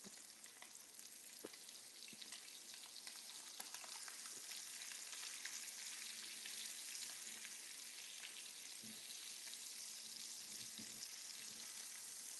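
Thick pieces of red snapper fry in a pan with a continuous bright sizzle and crackle, steady and close, with occasional small pops and no talking.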